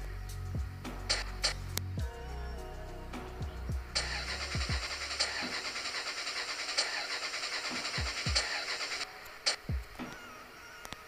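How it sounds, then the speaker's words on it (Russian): A Mercedes G-Class in the Car Parking Multiplayer video game cranks repeatedly without catching, giving short bursts of starter whirring and an engine noise that dies away, with a steady high tone running through the middle section. "Ребята, она просто не заводится."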